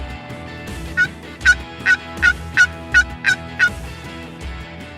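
Wild turkeys gobbling repeatedly, eight sharp rattling calls in a steady sequence at moderate distance, over a faint outdoor background.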